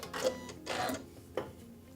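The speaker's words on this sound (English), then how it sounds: "I'm going to sew all the way down to the bottom, get to the end, and just stop." A sewing machine stitches fabric in short bursts, three quick runs of needle clatter separated by brief pauses as it starts and stops, close and clear with no talk.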